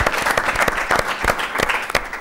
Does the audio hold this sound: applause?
yes